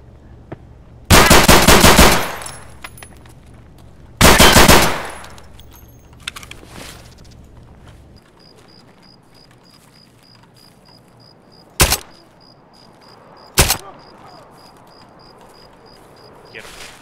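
Bursts of automatic gunfire in a video game, two long loud volleys followed by a few sharp single shots, with a faint steady electronic tone and players talking in between.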